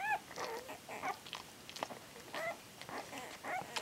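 Eight-day-old puppies whimper in a few thin, high squeaks scattered across a soft, continuous background of small newborn whines and rustling, close by with no talking.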